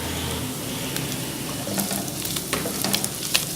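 Ginger and garlic with chili and turmeric powder sizzle steadily in a hot pan, a continuous close frying hiss with occasional stirring scrapes and faint clicks, no voices.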